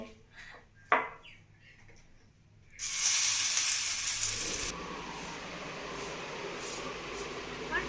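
Oats pizza batter poured into an oiled frying pan bursts into a loud, steady hiss that drops after a couple of seconds to a softer continuous sizzle, close up, following quieter kitchen clatter.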